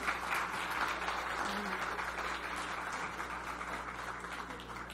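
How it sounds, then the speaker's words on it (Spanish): An audience at an educational conference claps for the presenter Marta, a steady wash of applause held at a moderate level throughout, with faint voices underneath. "Quiero pedir un fuerte aplauso para ella nuevamente."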